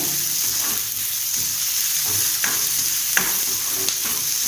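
Tomato chutney sautés in a pan with a steady close sizzle and frying crackle, broken by repeated scraping stirs of a utensil against the pan.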